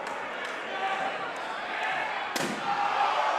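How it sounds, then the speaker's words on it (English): A door is smashed onto a wrestler in the ring during a wrestling match: one sharp, loud crash cuts through a steady crowd roar, with a few lighter thuds before it. "And the door to Dillinger, the door to Loco."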